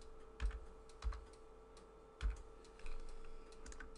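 Computer keyboard typing heard faintly over a low background hum: a few spaced, soft key thumps, then a denser patch of light taps, with no one speaking.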